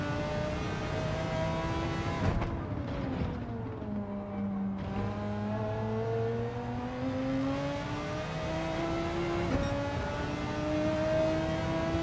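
An Audi racing in Gran Turismo 7 shifts gears, its engine note dropping and climbing again with each change and running loud and continuous with no voices.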